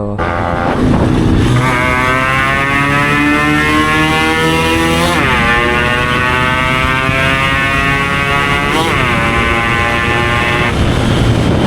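A Yamaha RX 135 motorcycle with a modified engine setup and a stock body, ridden on the way to a breakfast meetup. Its engine drones loud and steady, close to the rider, rising and falling in pitch through two quick throttle changes.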